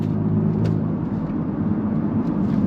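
A Cupra Ateca with GPF/OPF delete cruises in normal driving with exhaust valves closed, a steady low, mellow engine drone heard from inside the car, continuous and moderately loud.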